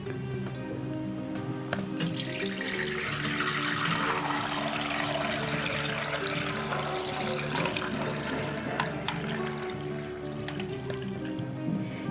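Homemade carrot wine being strained and poured, a steady continuous stream of liquid running for the whole stretch, moderately loud and close with no talking.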